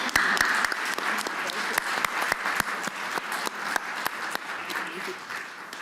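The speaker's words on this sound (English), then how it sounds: "Please join me in giving a round of applause to our panelists" An audience at a business and economic forum applauding panelists, a dense and steady round of clapping with a few sharper individual claps standing out, continuous through the stretch and fairly close.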